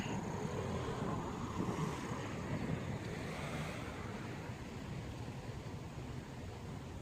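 A steady, broad rush of autumn wind blows across the microphone in a park in Korea, constant and fairly loud with no talking.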